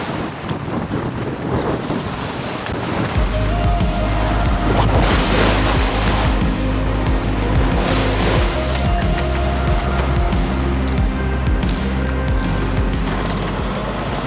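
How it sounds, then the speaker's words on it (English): Big Caribbean ocean waves wash around a sailing boat, with heavy wind buffeting the microphone and deep rumbling surges rolling steadily throughout. "The waves are pretty big right now, but they should get better."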